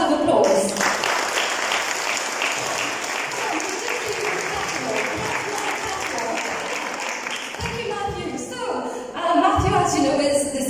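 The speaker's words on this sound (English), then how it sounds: "Matthew Taylor. Big round of applause." A crowd at a business HR café event breaks into sustained applause welcoming a company CEO, dense clapping heard loud and close, with a few cheers and voices rising near the end.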